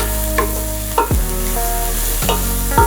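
Onions sliced lengthwise and salted are stirred as they fry in a pan for kuska rice, with a steady sizzle under a few scraping stirs of the spoon and no voices.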